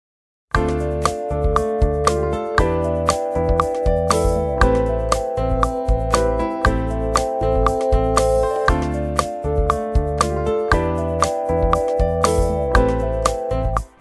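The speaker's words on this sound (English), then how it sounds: "got an R&B kit, percussionist, bass player, piano player, and a synth pad" A steady R&B groove from Logic Pro 11 Session Players, with punchy drums and percussion, deep bass, piano chords and a sustained synth pad, playing continuously.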